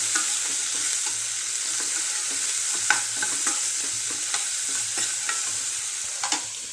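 Onion and chili frying in a pan, a steady close sizzle with stirring clinks and scrapes at irregular intervals and a faint low hum underneath, no talking.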